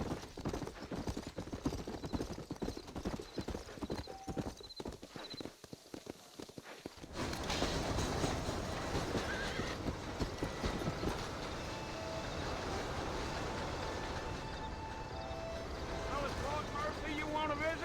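Horse hooves clip-clop at a steady riding pace in the Red Dead Redemption video game, a rhythmic trotting beat that grows denser midway, heard under a voice and ambient game sounds.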